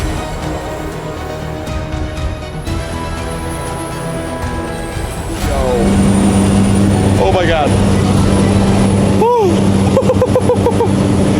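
A small seaplane's engine drones, then surges into a loud, steady roar as it powers up for takeoff, with a voice briefly exclaiming over it.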